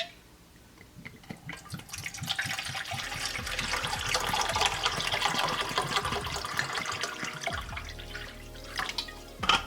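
Water is poured into a container to be heated on a small camping stove for South Korean civilian ration meals. It makes a steady, close, gurgling rush that lasts several seconds and ends with a few drips, with no talk.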